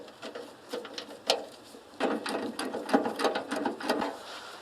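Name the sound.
ratcheting wrench removing bolt on Ferguson TO35 tractor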